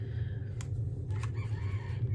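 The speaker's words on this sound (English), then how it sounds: "And then I ignore the rooster." A rooster crows faintly at a distance, two short calls over a steady low background hum.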